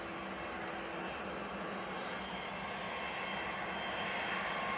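A Ryanair jet departs Manchester Airport, bound for Milan, its engines giving a steady, distant roar that holds at an even, low level throughout.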